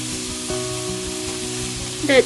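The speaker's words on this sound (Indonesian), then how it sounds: "sayur kolnya juga, dan kembali aduk-aduk atau tumis hingga tercampur merata" Shredded cabbage for a vegetable filling is stir-fried in a hot pan. A steady, soft sizzle runs under a low background hum, and a brief louder scrape of stirring comes near the end.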